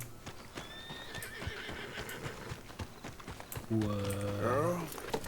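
A horse whinnies loudly near the end, after a steady patter of hoof clip-clops, with faint game-like ambience throughout, from the video game Red Dead Redemption 2.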